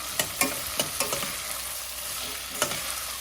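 Chopped onions stir-fried in a pan for palak paneer, with a steady close sizzle and a run of sharp spatula scrapes and taps in quick succession.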